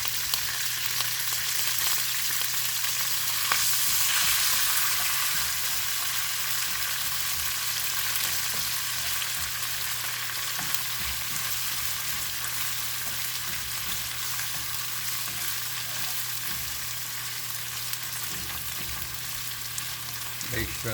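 Red curry catfish is stir-fried with basil and chili paste in a hot pan, giving a loud, steady sizzle with a few soft stirring scrapes that runs unbroken for about twenty seconds.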